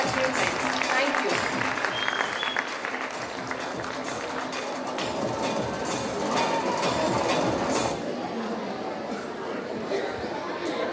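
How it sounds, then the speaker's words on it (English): Parents at a school annual prize distribution give the winners a sustained round of applause, dense and steady clapping from a large audience for about eleven seconds, with some voices underneath. "give them a final round of applause for all the winners"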